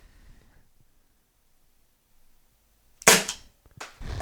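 Byrna LE launcher fired at a distant target: a single sharp crack stands out after a long quiet pause, followed about a second later by a softer second impact-like burst, with no talking.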